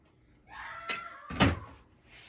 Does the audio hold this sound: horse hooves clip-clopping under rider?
no